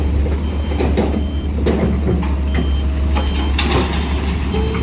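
A six-wheel truck rumbles loud and close with a steady engine drone as it pulls in, while sharp, repeated reversing beeps cut through at intervals.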